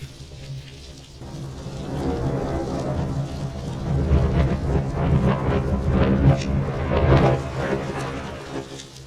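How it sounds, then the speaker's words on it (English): Thunder played in reverse through a Lubadh modular looper module, a loud rumbling that swells and builds in waves instead of decaying, with no voices. "You can also hear what thunder sounds like going backwards."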